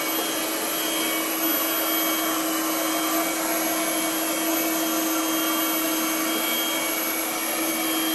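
Cecotec Windroid 870 window-cleaning robot working its way across glass, a constant loud motor and suction hum with a steady whine running unbroken throughout, no voices over it.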